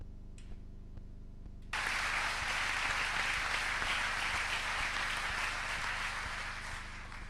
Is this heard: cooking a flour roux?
no